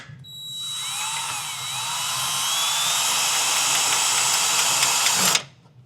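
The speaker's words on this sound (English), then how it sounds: "we're going to install these 4 screws into the 4 lanyards on the 4 corners" Power drill with a Phillips bit driving screws into the corner safety lanyards of a filter lift, a loud continuous high-pitched whine lasting about five seconds at close range, then cutting off abruptly.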